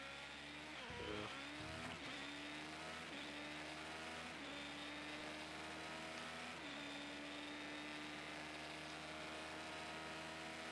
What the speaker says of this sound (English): This engine does sound quite violent.